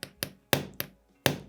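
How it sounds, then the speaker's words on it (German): A hammer lightly taps a hex bit seated in a screw head during repair of a G&G L85 ETU airsoft gun: five sharp, close metallic knocks spaced irregularly, with silence between them. "Dann nehmt ihr einen Hammer und klopft da ganz kleines bisschen"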